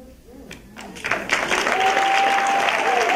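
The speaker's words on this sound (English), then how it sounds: "Clap it up for Ace Metaphor." Audience applause for a performer at a spoken word show, starting with a few scattered claps and a voice, then swelling into loud, sustained clapping and cheering with a whistle-like tone.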